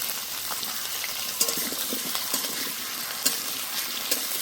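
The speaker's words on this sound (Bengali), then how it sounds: "এবার আলুগুলো ভালো করে ভেজে নেব।" Diced potatoes, seasoned with salt and turmeric, fry in a pan for a vegetarian paneer curry, a steady close sizzle broken by occasional stirring clinks and scrapes.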